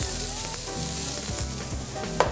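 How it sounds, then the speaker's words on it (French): Shallots and garlic fry in a pan with a drizzle of olive oil, giving a steady, close sizzle with soft stirring scrapes and a brief louder clink near the end; no one speaks. "échalotes et d'ail que nous allons faire revenir à la poêle avec un petit filet d'huile d'olive"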